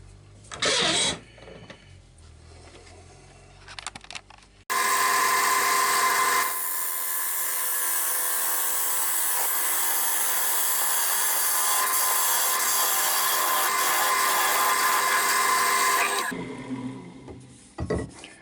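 A padauk box blank spins on a wood lathe while a tool hollows out its inside, giving a loud, continuous rough scraping whir that runs for about eleven seconds. Quieter clicks and taps come before and after it.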